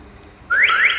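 A motorcycle alarm unit on a Mondial SFC 100 Snappy Xi chirps into life as it arms: a rising tone sweep, then a second rising chirp, loud and close after a moment of quiet.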